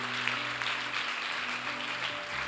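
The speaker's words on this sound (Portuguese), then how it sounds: "Dê uma salva de palmas para o Senhor." Steady applause from a church congregation, a dense wash of clapping that holds evenly throughout without pauses or voices.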